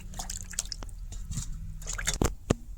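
Cut pieces of raw papaya are washed in water in a bowl, giving faint drips, sloshes and a few wet splashes near the end, close and quiet, with no voices.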